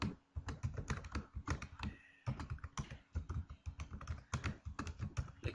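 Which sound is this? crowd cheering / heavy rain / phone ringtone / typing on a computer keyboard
typing on a computer keyboard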